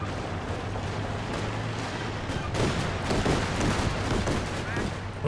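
A flak half-track fires in Company of Heroes 2, with dense rapid bursts of cannon fire and battle explosions that grow heavier partway through and continue steadily to the end.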